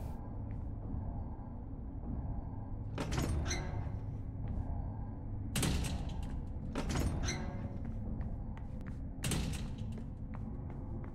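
Doors opening in the horror video game Obscuritas, heard as several loud thuds and creaking mechanical clunks spaced a few seconds apart over a steady low ambient drone.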